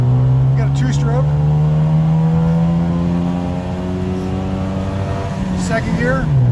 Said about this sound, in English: Now we're gonna rip through the gears. First gear, here we go.